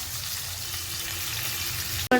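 Koi fish frying in oil in a home kitchen, giving a continuous, even sizzle with a faint low hum beneath, cut off by a brief knock at the very end.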